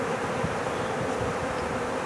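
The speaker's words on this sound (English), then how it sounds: "Look at all the bees fanning." A swarm of honey bees in a backyard fans its wings, producing a dense, continuous buzzing drone at moderate volume with no voices.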